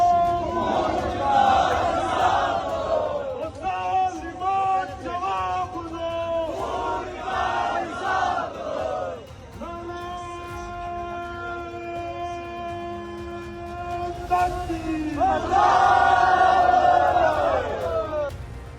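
A huge crowd of around 150,000 people in Pakistan-occupied Kashmir chants and shouts in unison, rhythmic waves of massed voices rising and falling, with a sustained chorus-like roar and loud surges toward the end.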